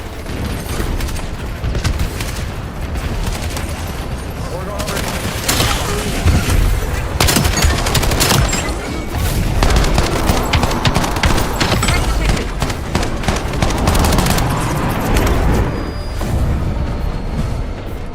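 Dense gunfire from a sniper and other guns fills a shooter game, with sharp overlapping shots and bursts crackling without a break. It grows heavier midway through and stays loud and up close.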